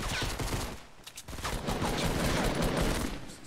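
Gunfire in Fortnite, a rapid, dense run of shots that stays continuous and fairly faint, with no talk over it.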